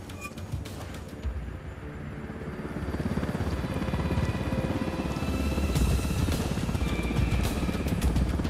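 A helicopter in the Narco Road expansion of a shooter video game whirs steadily, its rotor thump growing louder and nearer over several seconds with no speech.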